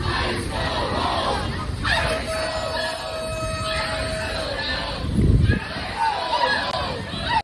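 Protesters confronting federal ICE agents near a metro bus and subway stop in Columbia Heights, Washington D.C., chant and shout as a loud, continuous crowd, with sustained voices and a long held tone over the steady din.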